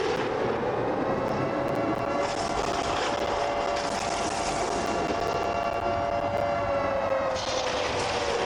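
A stadium siren blares after a score at an indoor football game, a steady sustained wail held for several seconds over a dense wash of loud crowd roar, with no speech on top.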